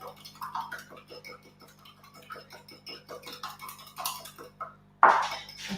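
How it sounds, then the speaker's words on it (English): A tiny whisk beats egg in a bowl with quick, steady clicking strokes against the sides, close and fairly light, ending with a louder clatter. "we've got this tiny whisk. Just whisk it up."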